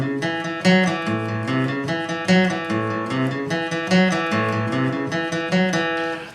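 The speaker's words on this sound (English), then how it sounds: "A single note boogie-woogie pattern." Electric or acoustic guitar plays a repeating single-note boogie-woogie riff in a rockabilly style, steady rhythmic plucked notes moving up and down, clear and close with no talking.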